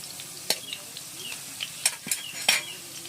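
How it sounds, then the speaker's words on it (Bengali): A spatula scrapes and clinks against a kadai as rice is stirred, giving several sharp metallic scrapes and taps over a light sizzle, close by. "কড়াইতে একটু নেড়ে ছেড়ে নেব।"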